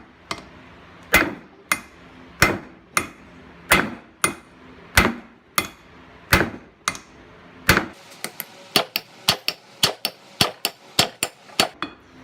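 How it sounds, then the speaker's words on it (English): A rounding hammer repeatedly strikes a plain mild steel hammer head held in vice grips to mushroom it, giving about twenty sharp, ringing metallic blows. They come steadily at first, then faster and closer together toward the end. "So we're just going to start beating it to mushroom it out."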